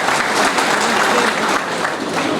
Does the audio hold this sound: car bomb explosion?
no